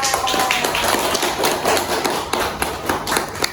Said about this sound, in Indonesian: Aplaus untuk teacher